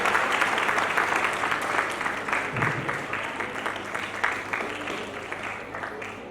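An audience claps steadily at an annual school prize distribution ceremony, a sustained burst of dense applause from a large crowd that slowly thins toward the end.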